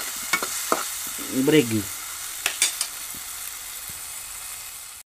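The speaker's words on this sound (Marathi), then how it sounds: "टोमॅटो आता शिजायला ठेवतो" Tomatoes cook in a pan, giving a soft continuous sizzle broken by a few sharp clicks as a spoon stirs and scrapes. A person speaks briefly near the start.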